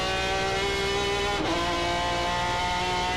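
Race car engines howl continuously at Laguna Seca during a 2003 Speed World Challenge GT race featuring a Porsche, a loud sustained high-revving drone with a brief pitch dip as a car shifts or passes.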